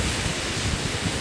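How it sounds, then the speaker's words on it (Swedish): Northerly wind blowing across an icy, overcast shore at Billudden, a loud continuous broadband roar with gusty buffeting on the microphone and no talking. "Och det blåser nordlig vind."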